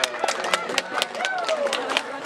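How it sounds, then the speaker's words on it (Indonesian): An audience claps at a school student council (OSIS) chair and vice-chair election: scattered, uneven handclaps ring out steadily for a couple of seconds, mixed with crowd murmur and talking. "tepuk tangan dulu"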